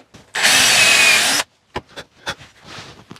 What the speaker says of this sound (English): drill another 8mm hole to take one of our dowels